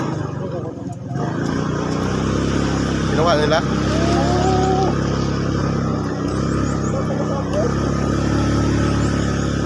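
A motorcycle engine drones steadily and strains as it climbs a steep uphill, loud and close throughout, with someone speaking briefly over it.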